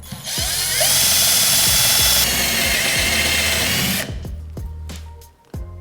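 A power drill bores through wood with a loud, sustained whine for several seconds, then winds down into a few knocks and scrapes nearby, with no speech.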